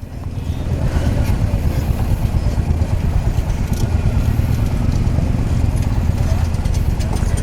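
Motorcycles idle and rumble on a mountain road held up at a landslide. A continuous loud, gritty engine drone runs throughout with low throbbing, and voices murmur faintly underneath.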